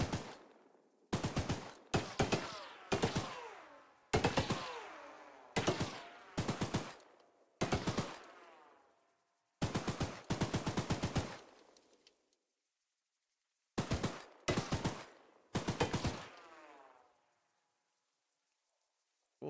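Rapid bursts of gunfire from weapons in the video game Driver, loud and close, fired in repeated sharp volleys with short silent gaps between them and a quiet stretch at the end.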